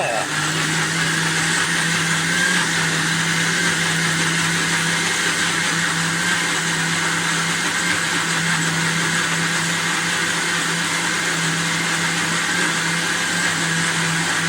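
A kitchen liquidiser whirring steadily at its top speed setting, a loud constant motor drone with a whining hum that holds unchanged throughout without pause.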